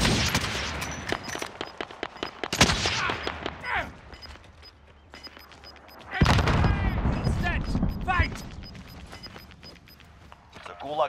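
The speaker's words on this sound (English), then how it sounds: "I'm taking fire! Under fire!" Gunfire in Call of Duty: Modern Warfare, with several sharp loud bursts near 2.6 and 6.2 seconds among ongoing in-game clatter, while voices talk over much of the action.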